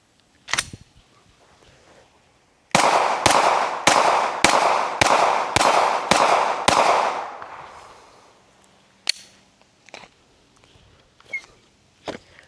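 Glock handgun fired outdoors, about nine sharp loud shots in a quick, even string with ringing echoes between them, plus a couple of fainter isolated pops before and after.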